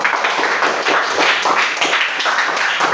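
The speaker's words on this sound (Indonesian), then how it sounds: "Oke, berikan tepuk tangan." A class of students at a school lesson claps on cue, giving a short burst of mixed, uneven hand claps that stays fairly close and lively for a few seconds before fading.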